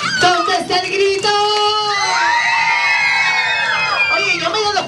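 A crowd of children shouts, whoops and cheers loudly at a lively gathering, their high voices rising and overlapping continuously, with an adult voice mixed in.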